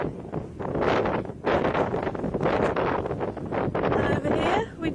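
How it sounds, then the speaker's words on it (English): Strong wind gusts batter the microphone on a coastal walk in Anglesey, with loud, surging roars rising and falling in several bursts and brief lulls between them. "We're on a coastal walk today, and yes, it's windy."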